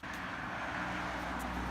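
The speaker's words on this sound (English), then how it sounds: "I do apologise for all the cars going past." Cars passing on a road in early morning, a steady broadband roadway rumble that swells slightly as vehicles go by, fairly close and continuous, with no talking.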